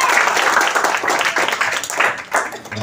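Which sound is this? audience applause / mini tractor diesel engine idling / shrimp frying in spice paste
audience applause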